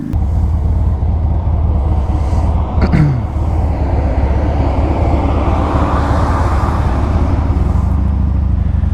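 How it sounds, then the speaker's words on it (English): A loud truck rumbles steadily past up close, a heavy low roar of engine and tires with a brief hiss near the middle, no voices. "how loud that truck was that just rolled by"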